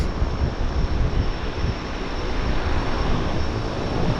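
Twin Otter floatplane at Vancouver Harbour, a steady broadband engine roar with wind rushing across the microphone, holding constant and fairly loud throughout with no voices.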